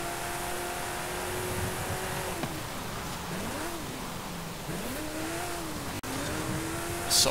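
A car driven in the Forza Horizon 5 racing game during a La Fiesta seasonal championship, its engine droning steadily then rising and falling in pitch through repeated revs and gear changes, loud and continuous with faint tire squeal.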